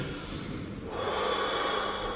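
Deep breathing of the kind done for a doctor's stethoscope check: a quieter exhale followed by a louder, rushing inhale, close and alone without speech.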